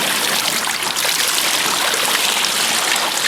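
Water in an indoor spa swimming pool, a loud continuous rushing and splashing like flowing jets, steady throughout with no talking.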